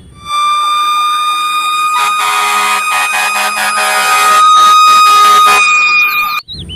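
A toy fire truck's siren wails loud and steady, with a harsh buzzing tone and rapid stuttering pulses, ending abruptly.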